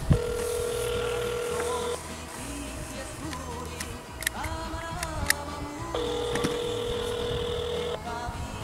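Electronic telephone ringing with repeated beeping tones, first alone and again after a pause, over a rhythmic low background and scattered clicks.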